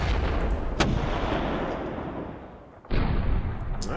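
A light artillery battery firing in the wargame Panzer Campaigns Kharkov 42, two sharp booming shots each followed by a long rumbling decay, loud and alone.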